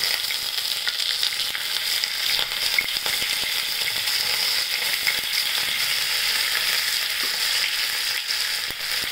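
Mustard seeds, cumin and curry leaves fry in hot oil for a tempering, a steady crackling sizzle that runs continuously and evenly, close by and alone with no talking.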